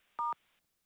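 Two quick telephone keypad dial tones beep close together over a faint steady tone on the line, then silence.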